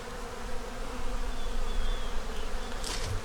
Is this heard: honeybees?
yes